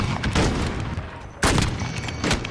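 Bursts of rapid gunfire in a sniping video game, loud and dense, with a brief pause before another volley.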